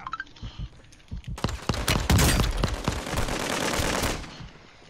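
Loud bursts of automatic gunfire from the Call of Duty Warzone 2 video game, rapid close shots building into a dense volley and then trailing off.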